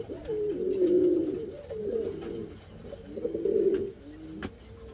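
Domestic racing pigeons in Valencia cooing: soft, throaty, rolling coos that repeat steadily and fairly close, with no talk over them.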